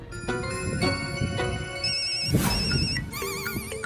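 A phone ringtone plays continuously, a bright electronic melody with warbling tones, fairly loud and without talking.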